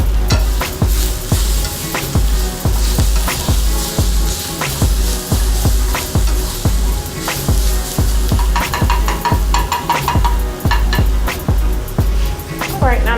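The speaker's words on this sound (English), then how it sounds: "when you add the garlic, be careful not to let it burn" Chopped garlic stir-fried in a hot pan, a steady sizzle broken by regular scraping strokes of a utensil, close and loud, with no talk over it.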